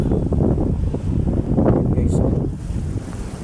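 Strong wind buffets the microphone in steady gusts, with a low rushing roar like open air by the water.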